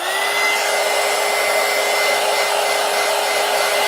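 A hair dryer blows on mixed media paper pages, giving a constant, loud, close whoosh with a steady motor whine that does not change through the whole stretch.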